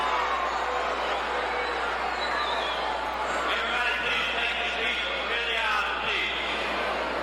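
Unruly crowd in a wrestling arena at a Rock & Roll Express versus Midnight Express tag match, a constant loud roar of shouting fans under a commentator's talk throughout.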